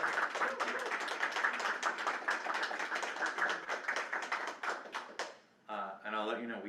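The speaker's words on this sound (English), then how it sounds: "One more round of applause." Applause from a conference audience at a side event session on children and adolescents in water, sanitation and hygiene, steady dense clapping for several seconds that cuts off, followed by a voice beginning to speak.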